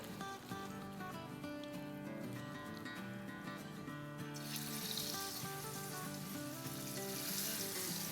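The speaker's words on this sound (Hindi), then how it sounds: "और फिश को हम डाल देते हैं फ्राई करने के लिए।" Fish frying in 4 to 6 tablespoons of oil in a pan over medium-high heat, a steady close sizzle that swells louder and brighter partway through, with music playing throughout.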